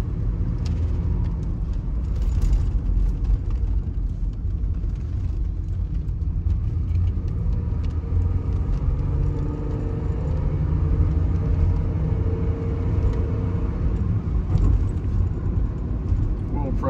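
A 1991 Buick Reatta with only 16k miles drives along with its engine running, a steady low road rumble and engine drone filling the whole stretch, with no voices over it.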